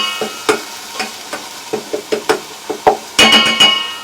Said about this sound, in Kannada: ಸ್ವಲ್ಪ ಫ್ರೈ ಮಾಡ್ಕೊಳ್ಳಿ ಈರುಳ್ಳಿ ಕಲರ್ ಚೇಂಜ್ ಆಗೋವರೆಗೂ